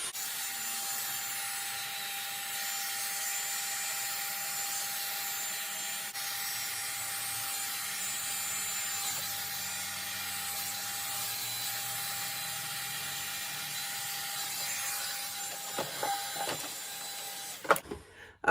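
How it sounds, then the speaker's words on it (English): A hot airbrush styles a wig, giving a steady, faint airy whir that runs for most of the time, followed by a few short handling knocks and rustles near the end. "even with a little bit of help from my hot airbrush"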